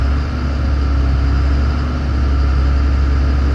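A 2002 Freightliner FS65 truck's diesel engine idles steadily at close range, a loud, even low-pitched rumble with a constant hum and no talking over it.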